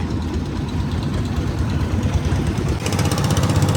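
A trawler boat's engine runs continuously on shallow water, a loud, close, throbbing drone that steadies and brightens slightly near the end.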